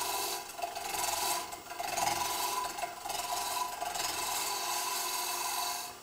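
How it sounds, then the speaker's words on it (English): A wood-turning push cut faces off a spinning wood blank on a lathe, giving a continuous rasping, scraping hiss that swells and eases slightly as the tool moves across the end grain. "I just want to face this off and get it flat. I'm going to do a push cut at this point."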